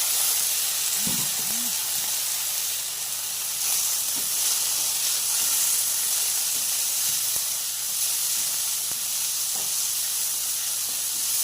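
Tomatoes sauté in a hot pan for a squid stir-fry, giving a steady, even hiss and sizzle that holds throughout, with a few faint clinks near the start.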